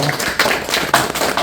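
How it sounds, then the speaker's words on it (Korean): A small seminar audience claps together in a brief burst of applause, dense and close, with a few voices mixed in. "다시 한번 수고했다고 박수 한번 해주시죠"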